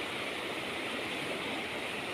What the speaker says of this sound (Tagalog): Ayan ang ilog namin guys.